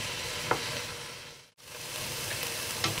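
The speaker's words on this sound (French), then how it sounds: "Donc maintenant que vos oignons sont revenus" Onions browning in a dry pan with no oil, a continuous close sizzle broken by a brief silent gap midway, with a couple of faint clinks as they are stirred.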